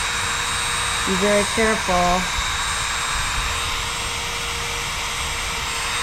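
A Dremel cuts a slot into a Pro Taper Evo handlebar with a steady, high-pitched whirring whine running throughout, and someone speaks briefly over it.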